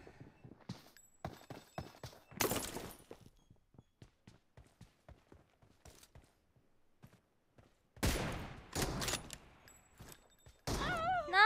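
Gunfire in the mobile battle-royale game PUBG Mobile, a long run of sharp single shots in an irregular rhythm, broken by a few louder bursty stretches of game noise.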